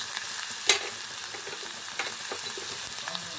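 Stuffed patol vegetables with turmeric and cumin are stirred in a pan, sizzling steadily close up with a few soft scrapes of the spoon, and no talking.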